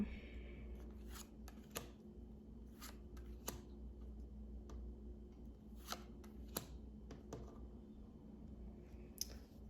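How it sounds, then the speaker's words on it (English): Crisp riffling and slapping of tarot cards being shuffled, repeated bursts over a steady low hum, close and fairly quiet. "so I have room to shuffle."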